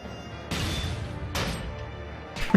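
Iron Maiden spell hit in the video game Tactics Ogre, a heavy metal clunk heard as several loud crashing impacts over a dense low game soundtrack.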